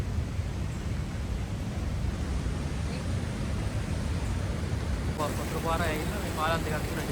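A stream rushes through Martvili Canyon in Georgia, a continuous broadband roar of flowing water that stays steady throughout, with a voice speaking over it near the end.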